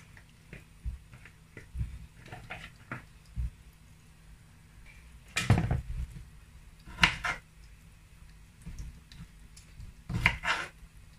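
A knife chops okra for a seafood okra soup, giving sparse, irregular taps and a few sharper clustered knocks on a board, quiet and close with no talking.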